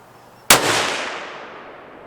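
A single sharp, loud Ruger 7PRC rifle shot cracks out at an outdoor range, then rings off in a long fading tail.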